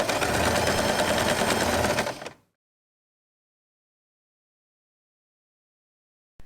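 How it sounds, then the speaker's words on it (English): A sewing machine runs steadily for about two seconds, stitching fabric for the ears of a scrunchie, then stops abruptly and leaves silence with a small click at the very end. "You can sew it normally."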